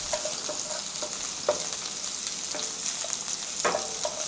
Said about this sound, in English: And then stir fry it for a while, let the aroma rising up from the skillet for a little while